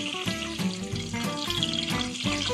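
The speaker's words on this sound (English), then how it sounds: "I'm frying up my keftedes" Keftedes, flour-dredged Greek meatballs, frying in Greek olive oil in a pan, giving a steady close crackling sizzle with repeated scraping and stirring clatters throughout.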